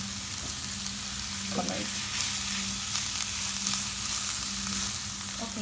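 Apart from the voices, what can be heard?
onions frying and being stirred in a pan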